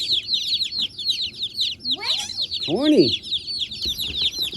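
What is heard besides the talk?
baby chicks peeping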